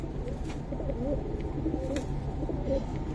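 Giribaz pigeons coo in a collection loft, a soft continuous burble of several birds close by with low rolling calls repeating across the moment.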